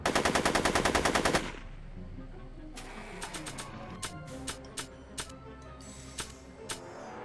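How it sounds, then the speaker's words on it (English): Gunfire in the Back to the Future video game: a loud rapid burst of automatic shots, then a quieter stretch of evenly spaced single clicks and ticks over a low background hum. "Are you shooting at me?"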